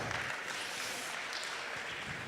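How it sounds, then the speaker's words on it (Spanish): Quiet applause fills a church teaching session, a dense, even patter of many hands clapping at a distance without pause for a couple of seconds. "Muy bien, un aplauso."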